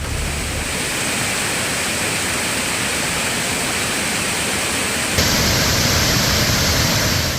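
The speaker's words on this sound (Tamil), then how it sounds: "ஒகேனக்கல் பிரதான அருவிக்கு செல்லும் நடைபாதைக்கு மேல் தண்ணீர் செல்கிறது." Cauvery river floodwater pours over Hogenakkal falls, a dense, unbroken roar of rushing water that stays loud and steady throughout and grows slightly louder near the end, with no voices.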